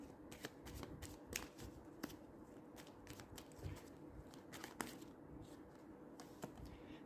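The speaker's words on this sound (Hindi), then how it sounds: "इसमें से कार्ड निकालती हूँ" A deck of tarot cards is shuffled and drawn by hand, giving a continuous close, crisp riffling and flicking of card stock with sharp snaps as cards are pulled, no talking.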